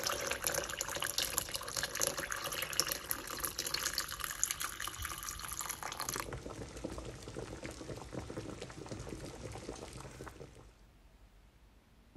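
Water running into a pot over two large potatoes, a steady close pouring rush that softens and tapers off near the end, with no talking.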